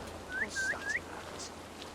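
A character whistling in Assassin's Creed Valhalla, three short rising whistle notes in quick succession, clear and fairly close over a quiet game background, with no talking.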